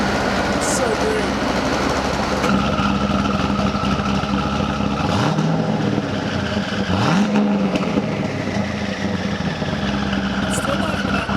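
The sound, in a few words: 1,200whp twin turbo Corvette Z06 engine revving in quiet mode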